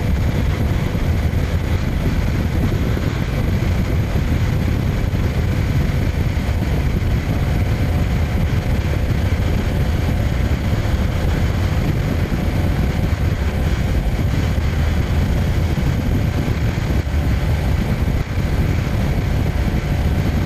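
A Kawasaki Ninja 300 motorcycle is ridden at steady speed, its engine droning continuously beneath heavy wind rush, loud and unbroken throughout with no talk.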